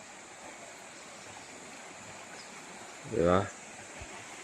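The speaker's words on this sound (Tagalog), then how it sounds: "Malinaw ang tubig, malinis. Galing sa bundok yung tubig" A clear mountain stream in Santa Maria, Laguna flows with a steady, even rush of water throughout, and a voice briefly speaks over it near the end.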